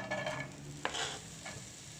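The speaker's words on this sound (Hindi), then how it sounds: "प्याज डाल के प्याज को सौते करना है" Sliced onions sautéing in about a tablespoon of hot cooking oil in a pan, a faint steady sizzle with a couple of brief stirring scrapes, quiet and close with no voices.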